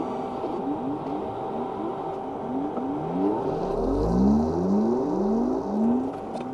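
A Creality CR-10 SE 3D printer runs its resonance calibration, its motors sweeping through rising and falling whirring tones in quick repeated glides, steady and close, ending with a louder low buzz.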